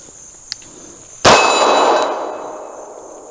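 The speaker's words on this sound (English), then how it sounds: "Let's try a couple of shots in double action here" A CZ 75 SP-01 competition pistol fired in double action: one sharp, loud report with a ringing metallic tail that decays over about two seconds, after a tiny faint click.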